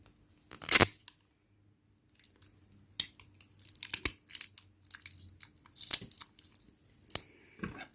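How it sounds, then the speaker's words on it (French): Adhesive tape is pulled and torn in short crackling strips during a crochet amigurumi craft project, several sharp bursts spread across quiet gaps. "je vais passer ici un peu de ruban adhésif"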